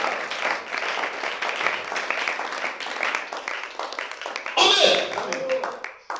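A church congregation breaks into sustained applause and clapping, loud and close, while voices call out over it throughout.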